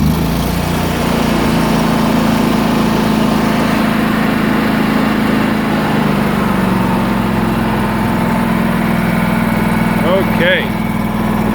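A Miller Trailblazer 325 welder's engine runs at a steady idle, a constant droning hum close by that holds even for the whole stretch, with a brief squeak near the end.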